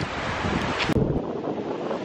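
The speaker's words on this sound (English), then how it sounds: "Waves." Sea waves wash onto the beach at Hua Hin, Thailand, a loud, continuous rushing surf heavily mixed with microphone wind buffeting and a brief dropout partway through.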